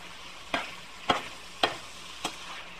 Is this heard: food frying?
yes